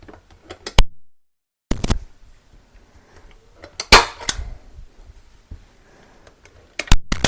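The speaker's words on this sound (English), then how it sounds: "we will use the staple gun to keep it in place" A staple gun fires staples during a spring thrift-flip craft project, with several sharp close snaps separated by quiet handling noise and one louder burst midway.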